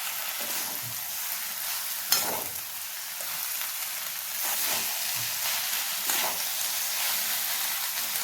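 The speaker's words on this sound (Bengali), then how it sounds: "শাকটা দেওয়ার পরে ভালো করে একবার নাড়াচাড়া করে নিচ্ছি।" Steady sizzling of spinach frying in a pan, with scraping stir strokes and occasional clinks of a utensil, no talking.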